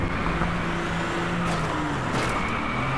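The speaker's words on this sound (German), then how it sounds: "So, einfach mal Gas geben hier." Car engine revving up under throttle in the racing game Driveclub, a steady drone of engine and road noise with rising tonal pitch, continuous and fairly loud throughout.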